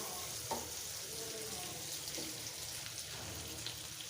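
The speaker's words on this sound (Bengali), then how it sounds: "আম্মু পাঠাইছে এই শুটকিটা কষিয়ে নেব" Dried taki fish sautéing in a pan gives a soft, steady sizzle with faint scattered crackles running evenly throughout, low in level and with no talking.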